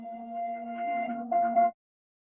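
A synth melody played in reverse and pitched down an octave, with steady sustained tones that swell and then cut off sharply after about a second and a half, followed by silence.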